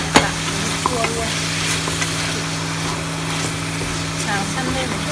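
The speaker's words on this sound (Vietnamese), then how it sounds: "xào săn lên một chút nữa" Duck stir-fried with sour sấu fruit in a pan, a steady loud sizzle with occasional scraping stirs, close by under a persistent low hum.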